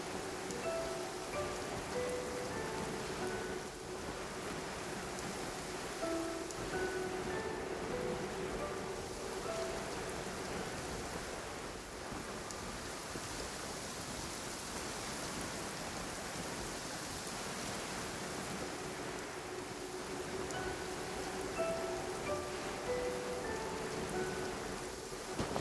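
Heavy rain falls in Genshin Impact, a steady, dense hiss of downpour that runs unbroken throughout with faint musical tones drifting beneath.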